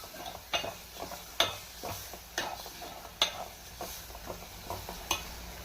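Coriander powder and spice paste frying in a pan, with repeated short stirring scrapes and soft clinks of a spoon over a light sizzle, close and steady with no talking.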